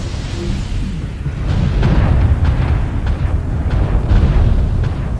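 Repeated missile salvo explosions rumble loudly in MechWarrior Online, with a Shadowhawk mech firing volleys; dense low booms and sharp bursts pile up continuously over a sustained roar.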